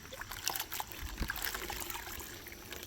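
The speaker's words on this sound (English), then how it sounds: "So we're going to rinse most of that stuff off of there" Water trickles and splashes steadily as it rinses pine shavings off the roots of a young fruit tree in a backyard orchard, a soft, continuous pouring close by with scattered drips.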